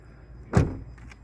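A single muffled clunk as a 2017 Renault Megane 4 locks, followed by two faint, brief whirring motor sounds as the mirrors fold in.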